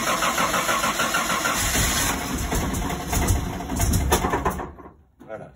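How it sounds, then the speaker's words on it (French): An old car with three carburettors, brought out of winter storage, cranks and starts with a busy, continuous engine roar that cuts off near the end, birds chirping faintly in the background. "c'est rare que ça démarre au quart de tour, ce qui est normal. Vous avez 3 carburateurs"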